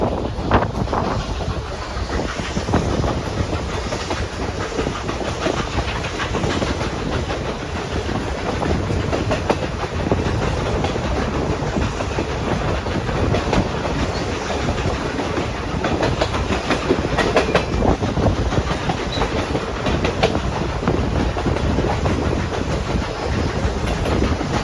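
Nickel Plate Road 765 steam train rolling steadily along, continuous rumble with rhythmic clickety-clack of wheels and gusting wind noise, no talking.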